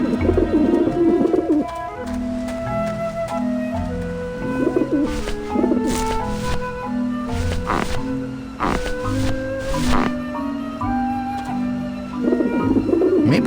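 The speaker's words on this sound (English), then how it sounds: "Run, you pigeons!" Pigeons coo repeatedly in the video game Grim Fandango, with soft, rolling calls recurring under a continuous layered soundtrack of tones.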